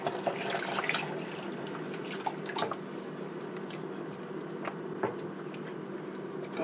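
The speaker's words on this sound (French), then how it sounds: "Et on va ajouter de l'eau." Water poured into a pot of Cameroonian white peanut sauce with mushrooms, a steady close trickling splash with small drips, running continuously and alone.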